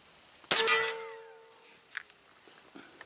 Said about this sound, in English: Here we go, shot number 4.